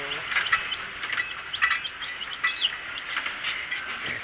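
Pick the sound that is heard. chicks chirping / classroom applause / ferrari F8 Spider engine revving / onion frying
chicks chirping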